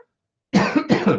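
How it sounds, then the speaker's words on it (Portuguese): Two harsh coughs in quick succession, close and loud, after a moment of silence. "Eu peço desculpas que hoje eu estou tossindo muito."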